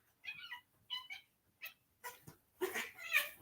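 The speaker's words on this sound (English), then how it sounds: "I'm fighting my cat" A house cat meows repeatedly, several short separate cries followed by longer, louder drawn-out yowls, close by with no other sounds.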